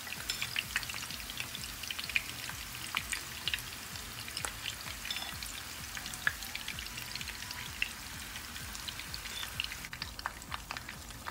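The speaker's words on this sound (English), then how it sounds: "you want to make sure that this is cooking slowly on low heat until one side is nice and golden" Bell pepper rings fry slowly over low heat in a pan, giving a soft, continuous sizzle with scattered small crackles and pops, close and fairly quiet throughout, with no speech.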